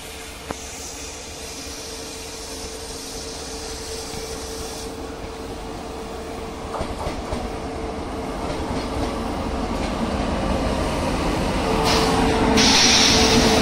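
The Karnataka Superfast Express, train 12067, pulls into an Indian railway station, hauled by an electric locomotive from the Vijayawada shed. A continuous rumble and clatter of wheels grows steadily louder as it approaches, with brief squeals near the end.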